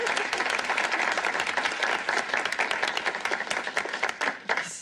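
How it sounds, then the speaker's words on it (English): A studio audience applauds the final two contestants on a sitcom game show, dense, steady clapping that stays full and lively, then tapers slightly near the end. "Let's give them a nice round of applause."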